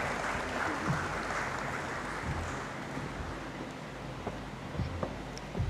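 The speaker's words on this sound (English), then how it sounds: "Please let's welcome her with a loud round of applause." Applause from the audience in a university great hall at a congregation ceremony, as the registrar is welcomed; a steady, diffuse wash of clapping that holds at an even level throughout, heard at a moderate distance.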